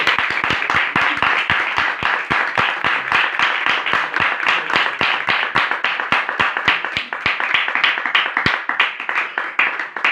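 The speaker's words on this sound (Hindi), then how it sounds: "यीशु मसीह के लिए एक बार जोरदार ताली।" Loud, steady clapping from a congregation at a Hindi-language Christian worship gathering: a dense, rhythmic run of hand claps fills the full ten seconds with no talk over it.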